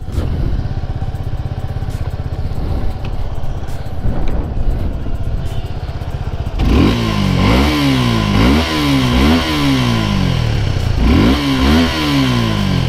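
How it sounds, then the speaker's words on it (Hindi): A motorcycle idles with a steady rumble, then its exhaust revs repeatedly in sharp rising bursts, loud and close, with no talking. "अब सुना देता हूँ दोनों बाइकों की एग्जॉस्ट साउंड"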